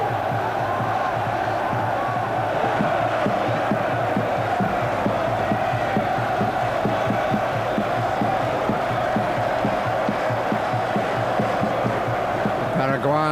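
A large French stadium crowd at the 1998 World Cup gives a standing ovation, a dense, sustained roar of applause and cheering that stays loud and steady throughout.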